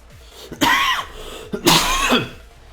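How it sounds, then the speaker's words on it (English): Two loud, harsh coughs close to the microphone, about a second apart, each a rough burst fading quickly. "I don't know why I'm coughing so much."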